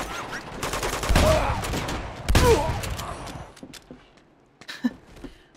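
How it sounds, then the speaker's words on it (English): Bursts of in-game gunfire fire at the player in Uncharted 2: Among Thieves, two heavy volleys of rapid shots, then scattered single reports and thuds as the barrage thins out. "Who's shooting me?"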